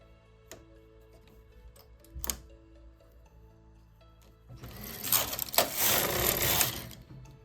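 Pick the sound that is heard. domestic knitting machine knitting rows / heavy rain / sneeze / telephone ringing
domestic knitting machine knitting rows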